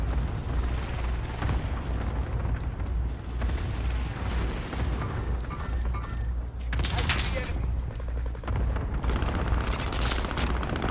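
Sustained gunfire rattles through a Call of Duty: Modern Warfare match. Dense bursts and booming blasts come in almost without pause, with a voice speaking over parts of the firefight.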